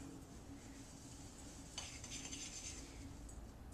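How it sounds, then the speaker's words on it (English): A spoon stirs a sticky peanut butter mixture in a bowl for granola balls, giving quiet scraping and clinks that pick up midway, with no talking. "And we're going to stir that together."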